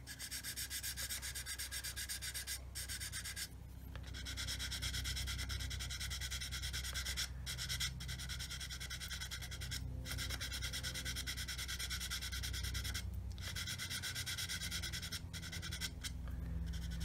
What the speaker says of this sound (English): when you've used the sanding stick a bit, it gets loaded up with the plastic dust